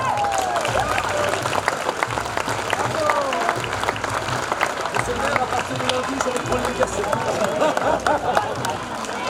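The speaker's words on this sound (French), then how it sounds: "Applaudissements" A crowd applauds steadily for several seconds, a dense patter of many hands clapping with some chatter mixed in.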